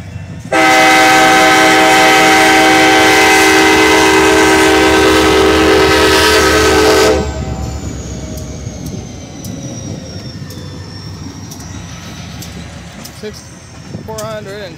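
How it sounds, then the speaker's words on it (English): A CSX 6400 freight train locomotive departing in Effingham, Illinois sounds a loud, steady horn blast for about six seconds, then a low rolling rumble of the moving train continues alone. "this train's getting ready to take off"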